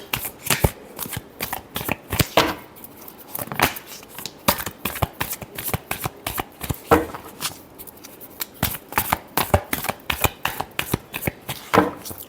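Tarot cards being shuffled by hand in quick bursts of crisp riffling and slapping, close and fairly loud, with short pauses between the rapid sequences.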